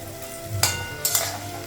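Whole garlic and green chillies dropped into a hot pan of frying onions, two bursts of loud sizzling over a soft, steady background fry, no voices.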